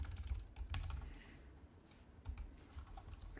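Keys clatter on a computer keyboard as a command is typed into the Kitty terminal on an Arch Linux Hyprland desktop, a quiet run of soft, irregular clicks with short pauses.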